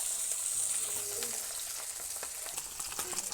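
Pabda fish frying in hot oil, a steady close hiss with faint crackles and spits running throughout, alone with no voices.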